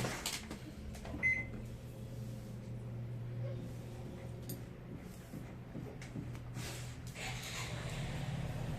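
An electric oven is switched on in hot blast mode at 180 degrees Celsius, giving off a steady low fan hum with a short beep near the start and faint kitchen clatter over it.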